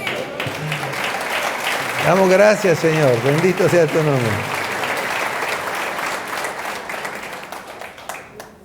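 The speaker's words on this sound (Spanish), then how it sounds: "denle un aplauso al Señor." A church congregation claps for the Lord in a sustained round of applause, heard in the room while a man chants a prayer over it with a sung, melodic voice.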